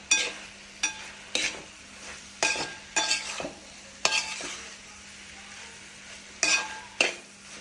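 A spoon stirs avial with crushed coconut and green chilli in a pan, giving repeated scraping strokes at an uneven rhythm over a soft sizzle, close and alone.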